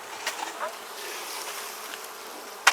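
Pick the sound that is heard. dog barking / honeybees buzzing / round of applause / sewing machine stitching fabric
honeybees buzzing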